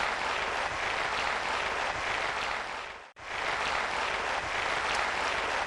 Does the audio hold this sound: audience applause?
yes